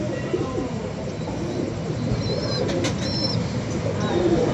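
Pigeons coo softly in low murmurs amid a busy outdoor background, with a few faint higher chirps and a brief flutter of wings.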